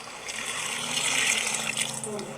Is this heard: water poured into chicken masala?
yes